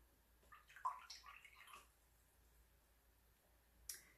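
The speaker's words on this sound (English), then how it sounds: "So I've just wet my brush." A paintbrush is swished and wetted in a pot of water during a watercolour painting of a cheese plant leaf, giving a quiet cluster of soft splashy clicks and drips, then a brief tap later, close up and faint.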